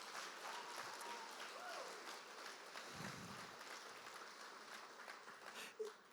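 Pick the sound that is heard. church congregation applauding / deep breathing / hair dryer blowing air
church congregation applauding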